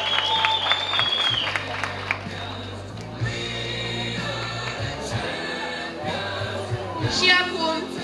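Applause breaks out for an award winner at a high school gala ball in Moinești, clapping from a crowd mixed with loud music and brief cheering.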